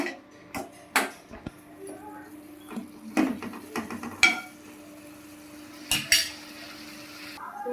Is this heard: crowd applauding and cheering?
no